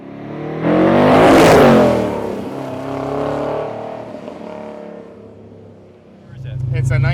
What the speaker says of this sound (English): let's take these things for a ride and see if they can burn off some tires.